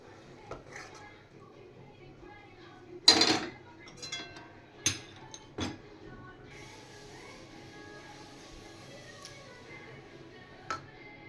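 Hilsa fish cooked with ridge gourd is set down onto a metal plate: a few sharp metallic clinks and clatters, one louder knock near the start, then quieter scrapes, in a quiet kitchen with a faint voice.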